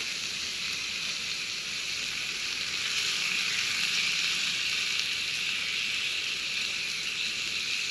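Fish sizzling and frying steadily in a skillet at a lakeside outdoor cookout, with a continuous loud hiss that swells slightly midway and no talking.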